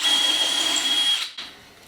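A power drill bores steadily through a piece of dried-out 2x4 lumber, a loud whining drone that cuts off abruptly, followed by a brief rattle as the tool spins down.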